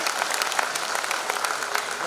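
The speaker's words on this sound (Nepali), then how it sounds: "एकचोटि जोरदार ताली पड्काइदिनु होला" Audience applause at a live Nepali stand-up comedy show, dense steady clapping from a crowd lasting about two seconds without a break, no voices over it.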